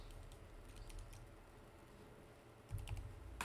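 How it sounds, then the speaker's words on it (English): Clicking of keys being typed on a computer keyboard, faint and close, with scattered light taps at first and a quicker, louder burst of keystrokes near the end. "I'm typing it on the screen for you"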